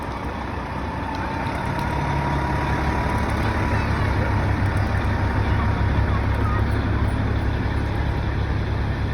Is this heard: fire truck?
yes